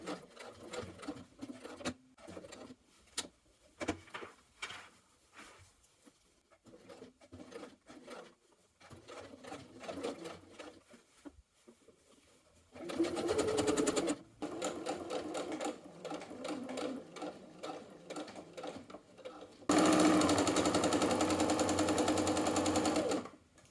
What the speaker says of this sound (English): we're going to top stitch from the hem around the neckline and back to the hem on the other side